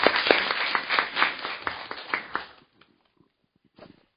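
Audience applause at a Korean panel discussion on cancer drug access, a dense burst of many hands clapping for about two and a half seconds before cutting off, followed by a short faint patter.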